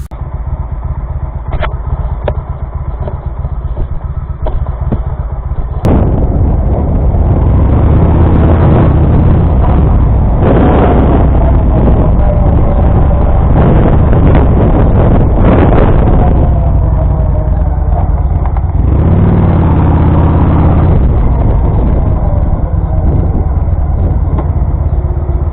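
A Honda Shadow VT750 motorcycle rides along a road, its engine droning loud and continuous with shifting revs and heavy wind rumble throughout.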